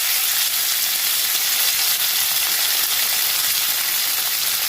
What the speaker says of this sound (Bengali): সেদ্ধ আলুটা একটু তেলের উপর ভাজলে টেস্টটা ভালো হবে।